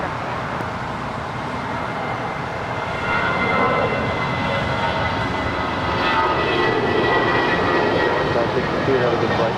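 An airliner's jet engines roar steadily as it takes off from runway 25 right at LAX, heard from a distance as a broad rushing noise that swells partway through.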